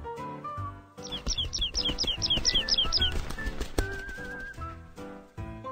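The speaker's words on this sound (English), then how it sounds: "A bird in an elevator." A cartoon bird flaps its wings and chirps inside an elevator, with a quick run of bright repeated chirps over a busy, music-like backing track, all fairly loud and close.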